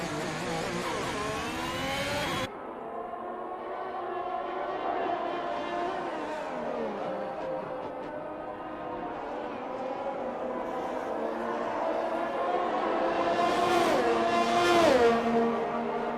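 Race cars lapping Bahrain in a sim racing game on soft and medium tyres, engines whining and revving steadily through the stretch, rising to a louder passing scream near the end, with a commentator talking over them.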